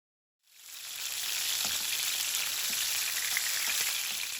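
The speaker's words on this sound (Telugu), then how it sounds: "ఇప్పుడు ఆయిల్ హీట్ అయింది, దీనిలోకి మనం మ్యారినేట్ చేసి పెట్టుకున్న ఫిష్ని మనం ఒక్కొక్కటి ప్యాన్లోకి యాడ్ చేద్దాం" Marinated fish pieces frying in hot oil in a pan, a steady loud sizzle that starts abruptly after a brief silence and holds evenly, with faint pops and crackles through it.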